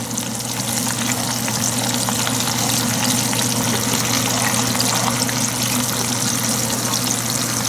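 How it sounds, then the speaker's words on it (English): Fish frying in a pan with hot oil being basted over it gives a loud, steady, dense sizzle that runs unbroken from start to finish, with no voices. "So I'll keep basting this, and then we'll turn it over."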